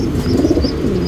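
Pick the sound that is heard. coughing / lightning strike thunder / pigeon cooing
pigeon cooing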